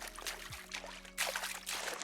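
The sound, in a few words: video game splashing sound of character entering water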